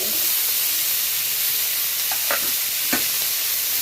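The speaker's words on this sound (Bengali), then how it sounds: "এবার কেটে রাখা টমেটোটা দিয়ে দেব" Chopped tomato goes into frying rohu fish curry with potato and onion stalks in oil, giving a steady hissing sizzle with a few soft stirring clatters near the end.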